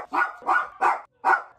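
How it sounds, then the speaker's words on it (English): Dogs bark indoors, four loud, close barks in quick, steady succession with short gaps between them, no voices over them. "these dogs are gonna drive me insane"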